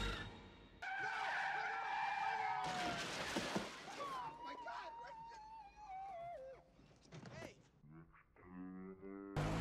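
Tires screech and skid in long, wavering squeals during a movie car chase, loud and repeated over engine noise, with a voice talking over part of it.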